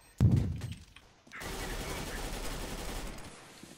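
Gunfire in the video game CS:GO during a competitive match: a sharp loud shot burst near the start, then a dense sustained stretch of rapid fire and game noise, with players talking over it.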